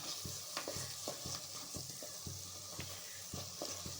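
Chilli powder and coriander powder fry in hot oil for layered chapati, a steady sizzle broken by repeated scraping strokes of a spoon against the pan, close and alone.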